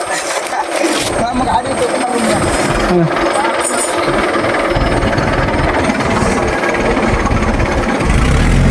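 A tractor's engine labours hard and continuously while stuck deep in mud, its loud low rumble and grinding vibration rising toward the end, with people talking over the noise.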